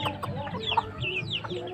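A Basilan native hen clucks softly several times in quick, uneven bursts, close by, with faint background noise.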